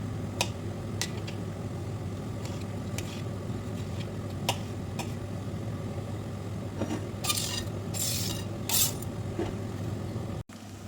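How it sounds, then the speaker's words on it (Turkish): Onions being stirred in a frying pan: scattered metallic clinks and scrapes of a utensil against the pan over a steady low sizzle, with a few louder clatters near the end. "Soğanı ara bir karıştırmak lazımdır ki yanmasın."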